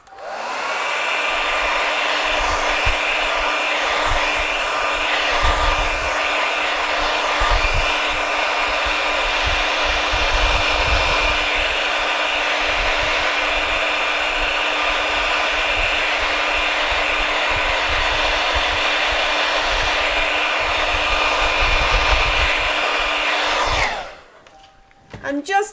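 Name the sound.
hair dryer blowing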